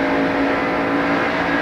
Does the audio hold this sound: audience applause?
no